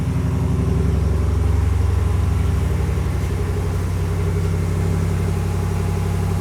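The 5.7 HEMI V8 of a 2019 Ram 1500 pickup idles steadily and close by, a low rumbling drone with an even rhythmic pulse that holds constant throughout.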